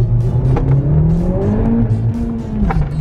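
A 2018 Honda Civic Type R launching hard, engine note climbing through the revs with some tire squeal from lost traction, loud and close from inside the car.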